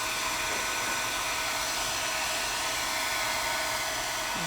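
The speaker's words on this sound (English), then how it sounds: "air dryer or hair dryer, whatever kind of dryer you have. I do have it on my highest heat" A hair dryer set to its highest heat blows continuously at close range to dry craft paint, a steady loud whooshing roar with no talking.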